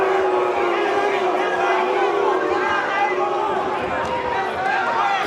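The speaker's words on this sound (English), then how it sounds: "And the crowd booing." A large boxing arena crowd boos in a sustained, dense roar that stays loud and even throughout, with a commentator's voice speaking over it.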